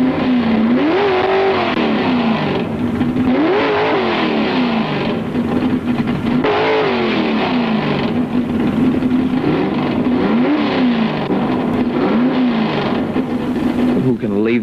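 A Ford 427 drag race car engine revs loud and near, climbing in repeated sweeps as it winds up and launches, each surge falling away before the next, with people talking over parts of it.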